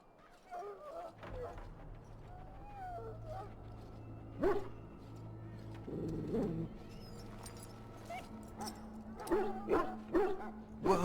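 A dog in the Dragon Age: Origins video game gives short yips and whimpers at intervals over a steady low game background, with voices talking through parts of the scene.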